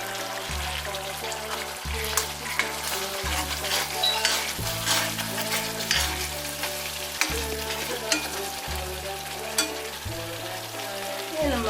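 Curry leaves sizzle in a quince pickle mixture, a continuous close frying crackle with sharp pops, heard under a repeating low background music pattern.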